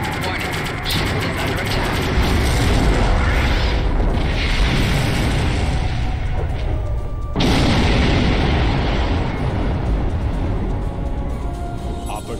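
Starship weapons fire and explosions from the space battle game Star Trek Online rumble on as a dense, continuous barrage of booms and bursts, with voices talking over the combat.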